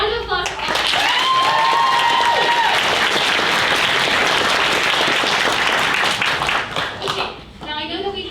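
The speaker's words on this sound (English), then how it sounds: "So, round of applause for all of them" Sustained applause with cheering from a school audience at a Schoolhouse Rock evening, thanking the helpers who built the sets; dense clapping fills most of the stretch, then tapers off near the end as voices return.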